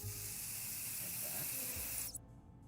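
Spray aimed at a mutant cockroach in the video game 60 Seconds! Re-Atomized, a steady loud hiss lasting about two seconds that cuts off abruptly.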